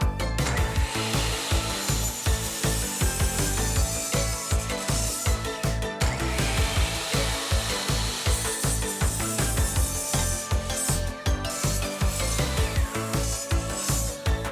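A power saw rips through 2x6 lumber boards for a picnic table, a loud, steady cutting roar with rapid rhythmic pulses running the whole time, close up with no voices.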